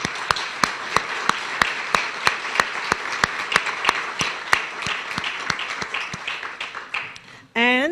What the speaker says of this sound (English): let's have a big round of applause for Carol Clark and our honorees